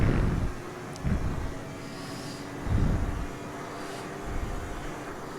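An Alfa Romeo 155 V6 racing car in Assetto Corsa holds full throttle down a straight at Mid Ohio, a steady loud engine roar with a few surges and shifts, close and without speech.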